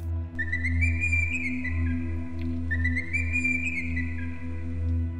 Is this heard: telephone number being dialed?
no